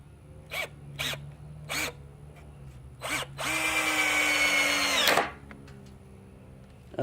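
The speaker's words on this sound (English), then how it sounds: "Start with the little drill first." Black and Decker LDX50PK project kit drill driving screws: several short whirring bursts, then a longer sustained high-pitched spin that stops abruptly, close and fairly quiet with no talk.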